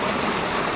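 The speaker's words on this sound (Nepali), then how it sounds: "सङ्गलो पानी यहाँ 24 घन्टा खेतीको लागि सङ्गलो पानी बगिरहेछ" Irrigation water runs steadily in a stream that feeds farm fields in Bhojpur, Nepal, a close, loud, continuous rushing wash with no voices.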